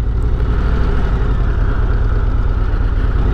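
The 121 cubic-inch variable-valve-timing engine of a 2023 Harley-Davidson CVO Road Glide idles through its quiet factory exhaust, a steady, close low rumble with no talk.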